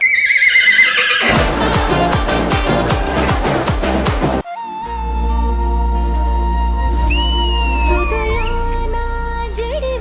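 A sick horse gives a loud, shrill whinny at the start, followed by rhythmic hoof-like clopping and then sustained tonal sounds with a deep hum, during a stage dance performance.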